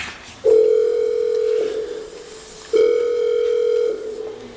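A telephone rings on a television call-in quiz show. There are two long, loud electronic ring tones separated by a short pause, with no voices.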